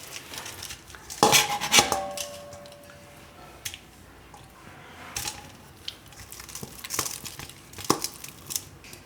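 Boiled, peeled sweet potatoes for paratha are mixed in a metal bowl, giving clattering scrapes and knocks of utensil against the bowl in short bursts, close and fairly loud, with quieter handling between.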